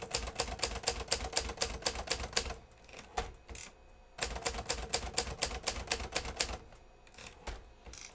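Rapid bursts of keystrokes on a 1965 Hermes 3000 portable typewriter, close and crisp, in two runs of steady clacking separated by a short pause with a few isolated key strikes.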